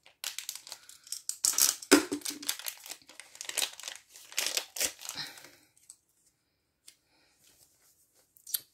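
A craft supply package being opened without scissors, with loud, close crinkling and tearing of plastic wrapping for several seconds, then near silence.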